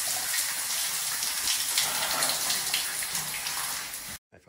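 Shower water running steadily in a close, continuous broadband hiss for about four seconds, then cutting off abruptly near the end, with no talking.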